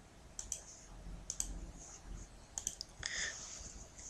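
A computer mouse clicking: a handful of sharp, close, fairly quiet clicks, some in quick pairs, spaced irregularly over faint room noise.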